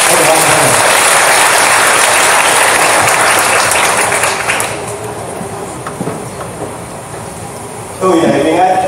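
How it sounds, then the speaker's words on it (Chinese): Audience at a church evangelism workshop applauding, a loud dense wash of clapping that thins and fades partway through before another burst of sound near the end. "所以这是我们拍手掌声欢迎这一堂的讲课"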